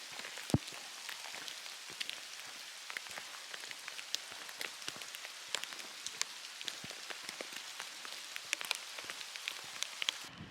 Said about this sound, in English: Every 10 minutes, getting rained on.